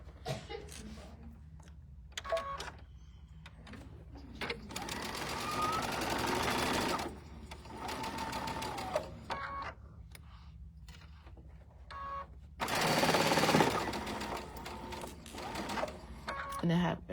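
A sewing machine stitches slowly over a double fork pin holding a quilt block seam, in two loud whirring bursts separated by quieter stretches where someone talks.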